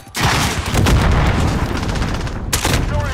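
A cruise missile strike in a Call of Duty multiplayer match, heard as a sustained loud roar of blasts and rumble lasting about two and a half seconds, followed by a second sharp burst near the end.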